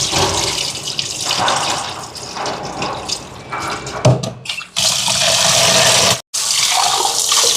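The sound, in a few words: rice being washed by hand in water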